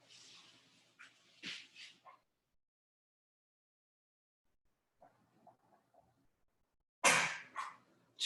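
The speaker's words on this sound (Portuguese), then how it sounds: "Desculpem, o meu cão espirrou." A pet dog sneezes indoors, two sharp bursts, one early and one near the end, separated by a long near-silent gap with faint clicks.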